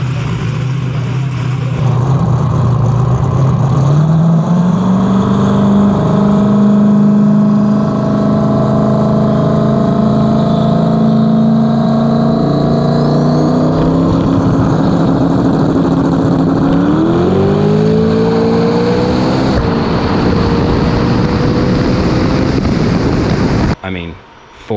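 Turbo LS-powered Foxbody no-prep drag car held on the brake, its engine droning loud and steady as the revs climb in stages over about twenty seconds before cutting off abruptly.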